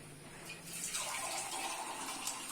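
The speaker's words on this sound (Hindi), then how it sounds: "सूजी में डालेंगे पानी।" Water poured into roasted semolina in a pan while making halwa in a rural Pakistani village kitchen, a steady rushing pour that swells after a quiet start and keeps going, fairly close and with no talk.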